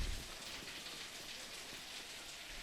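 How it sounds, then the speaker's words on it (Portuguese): Rain falling in the video game Baldur's Gate 3, a steady faint hiss of drops on surfaces with no voices. "aqui está caindo uma chuva"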